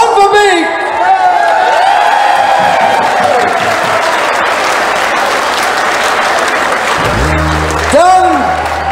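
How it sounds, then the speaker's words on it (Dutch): Audience applause at a Dutch ceremony, with sustained clapping from a large crowd filling the whole stretch, a few whoops over it and loud voices talking near the end. "Waarbij we elke keer ruim applaus gaan geven."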